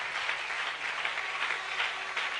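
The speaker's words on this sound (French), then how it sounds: "Anybody clap your hands for the King of Kings." A church congregation applauds at a Sunday service, dense continuous clapping from many hands filling the room at an even level.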